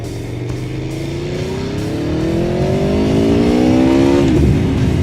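An Aprilia Tuono V4 Factory motorcycle revs close by, its V4 engine note climbing steadily in pitch to a loud rasping peak before the throttle snaps shut.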